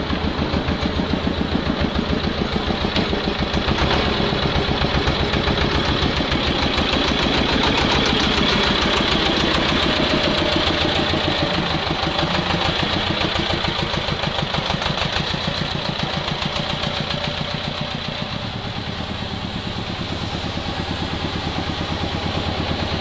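A T-16 loader-manipulator tractor engine runs steadily throughout, giving a loud, close, even chugging drone with a fast regular beat and no talk over it.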